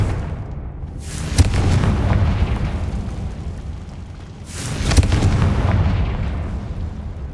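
Two booming Confringo spell blasts go off in Hogwarts Legacy, each a loud explosive burst with a long rumbling tail, heard alone without speech.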